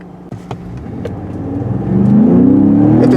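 2017 Ford F-150 Raptor pickup truck, a 6,000-pound vehicle, accelerating hard, with the engine note climbing steadily in pitch and swelling louder over a few seconds, heard close and alone.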